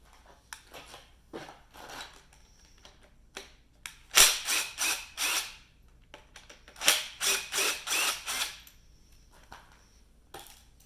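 Pistons being pulled from an engine block during a cruiser rebuild: bursts of metallic clicking and ratcheting, near and fairly loud, in two main clusters with quieter taps between.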